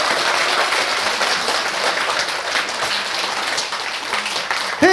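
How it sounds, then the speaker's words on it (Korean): Audience at a laughter yoga session claps for a folk-song performer, a loud, steady wash of applause that continues evenly throughout. "여러분 박수를 많이 쳐주셔야 돼"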